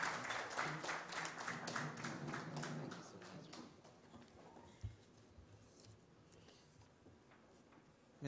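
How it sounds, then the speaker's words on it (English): Forum attendees at the Broadband Ghana Forum applaud in a brisk burst of many clapping hands that fades after a few seconds, leaving quiet room tone with a single thump. "Let's give her a big round of applause as we welcome her to deliver her speech"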